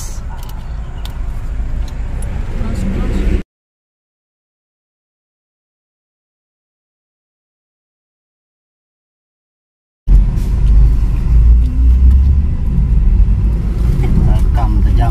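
A car drives along the Trans-Sumatra highway, a steady low engine and road rumble heard from inside the cabin. The sound drops out into a long silence midway, then resumes just as loud.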